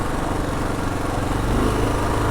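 A 2022 Kawasaki KLR650 single-cylinder motorcycle being ridden with its airbox snorkel removed, giving a steady, loud, buzzing engine drone with no talk.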